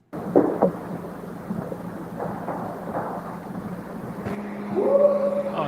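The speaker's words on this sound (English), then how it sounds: "Rain for Nightville" A recording of rain and thunder plays back: low thunder rumbles roll under a soft wash of rain, with a tonal swell near the end and no talking.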